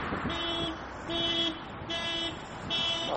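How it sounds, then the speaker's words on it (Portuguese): A car alarm sounds outdoors, a repeating electronic tone pulsing in regular on-off bursts about four times, steady and moderately loud over a faint background hum. "tem um carro com alarme aqui tocando"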